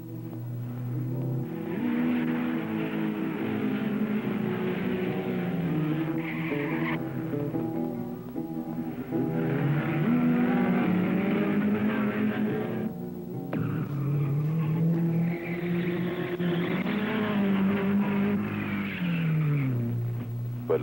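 A race car on the Chimney Rock Park mountain hill climb around 1960 revs continuously and shifts gears repeatedly, its engine pitch rising and falling through a steady, fairly loud drone that lasts throughout.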